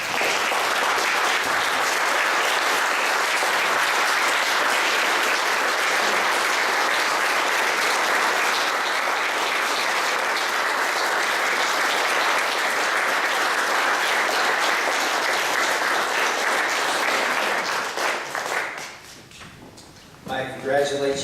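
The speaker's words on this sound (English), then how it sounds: "Let's all stand and give them a round of applause." Standing audience at an Eagle Scout Court of Honor gives sustained, full applause for about eighteen seconds, loud and even, then fades out with a few scattered claps and stray sounds.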